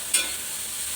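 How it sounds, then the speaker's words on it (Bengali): Dried shrimp frying with salt and turmeric in a pan, giving a steady, close sizzling hiss with a brief louder burst near the start, no voices. "আগে লবণ হলুদ দিয়ে চিংড়ি মাছটাকে ভেজে নেব ভালো"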